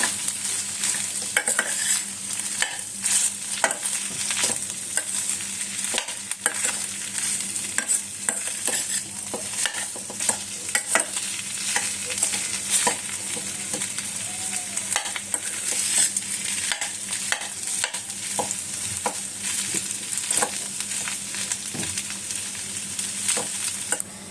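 Vegetables with salt being stirred and sautéed in a pan for a fasting-day dish, constant sizzling broken by frequent quick spatula scrapes and taps, with no speech.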